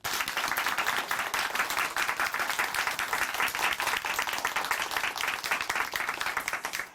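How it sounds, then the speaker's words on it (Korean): A studio audience at a Korean Christian testimony TV show applauds steadily and densely, a sustained round of clapping that fades at the end. "다시 한번 박수 보내드릴게요"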